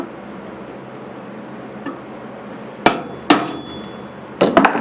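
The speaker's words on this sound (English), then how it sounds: "all this punch is doing is creating a divot so the bit stays in it" Several sharp metallic hammer strikes on a center punch marking metal for drilling, a couple spaced apart then a quick cluster near the end, over faint background hum.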